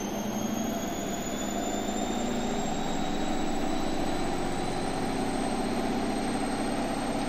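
Gorenje WaveActive washing machine spinning at high RPM with an unbalanced load, a loud, steady, roaring whine with a high-pitched tone slowly rising throughout, close and unbroken.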